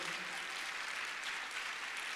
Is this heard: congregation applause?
yes